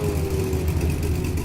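Car engine in the racing sim Stock Car Extreme, a steady low droning hum that holds level and loud throughout with no clear revving changes.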